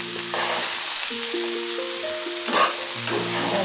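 Ridge gourd sizzles and fries steadily in a pan for a traditional Bengali jhinge aloo posto, a loud continuous hiss with faint background tones and a brief burst of stirring midway.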